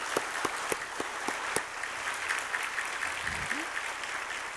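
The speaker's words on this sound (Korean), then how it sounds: "이번 성에 큰 은혜 주신 우리 림 목사님께 다시 한번 뜨거운 박수로 감사하시겠습니다" A church congregation at a New Year revival service applauding their pastor, a broad, even wash of many hands clapping that continues throughout, with a few louder individual claps near the start.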